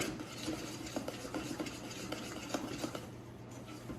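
A spoon scrapes and stirs around the sides of a pot of melting sugar on the stove, giving a steady close rhythm of soft scraping strokes over a constant background hiss.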